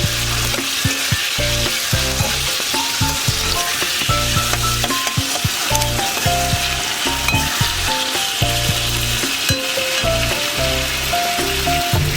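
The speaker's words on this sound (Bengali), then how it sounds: "লঙ্কা দিলাম, নুন দিলাম, এটা তেলে ভেজে নেব।" Chilli and salt fry in hot oil in a pan, a steady loud sizzle with occasional stirring scrapes, while a musical tone pattern plays throughout.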